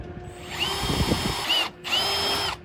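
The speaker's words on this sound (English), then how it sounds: "Drilling our first hole" A power drill with a 7/32 bit whines steadily as it bores up into a restroom trailer door header, rising in pitch, stopping briefly, then spinning up again close by.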